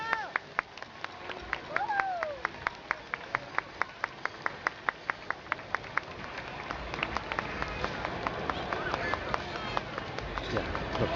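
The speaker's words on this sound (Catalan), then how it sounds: "Un fort aplaudiment per a ells" Scattered applause from an outdoor audience for a dolçaina and tabal group of the Sequiol gaiata, sharp individual claps over a murmuring crowd that swells gradually toward the end, with voices audible underneath.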